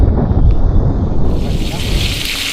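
Sea wind at the shore buffets the microphone, a steady low roar that rushes close and loud for a couple of seconds.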